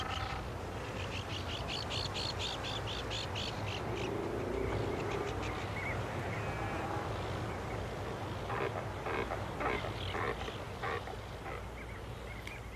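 Seabirds call repeatedly in rhythmic bursts of squawks and chirps over a constant low roar of wind or surf, like a busy coastal colony heard from a moderate distance.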